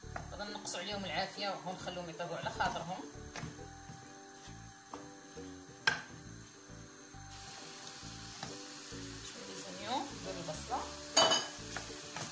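Chicken breast and garlic fry in a pan, with stirring, scraping and clinking utensil noises over a low sizzle while a person talks throughout.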